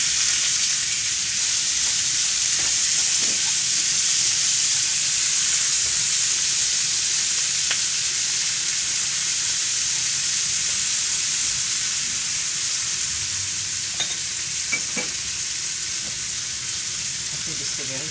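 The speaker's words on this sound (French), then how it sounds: "On met l'oignon." Onion frying in a pan for a sauce, a loud, continuous hissing sizzle that holds steady throughout, with a few faint scrapes and clicks and no talk.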